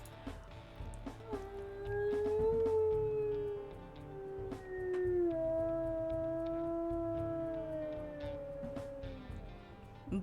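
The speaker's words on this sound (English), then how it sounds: "Both very, very low howls." A wolf in the WolfQuest video game lets out two long, very low howls. Each one holds and slowly bends in pitch, steady and fairly loud, over a faint background bed.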